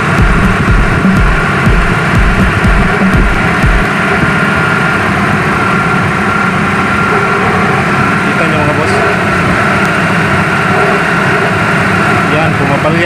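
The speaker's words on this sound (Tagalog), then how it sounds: "So ito yung tunog ng makina pag naka aircon mga boss." Mitsubishi 4G64 engine idling with the air conditioning switched on, a loud, steady low rumble with a faint pulsing beat and constant mechanical hum throughout, no speech.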